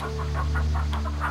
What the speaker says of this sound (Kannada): ಅಲ್ಲಿ ನೋಡು, ಕೋಳಿಯ ರೆಕ್ಕೆಯಲ್ಲಿ ಮರಿಗಳಿವೆ.